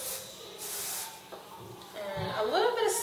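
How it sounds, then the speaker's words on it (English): Hairspray is sprayed onto a little girl's hair in two or three short hissing bursts from an aerosol can, close by, with someone speaking softly between them. "And a little bit of spray."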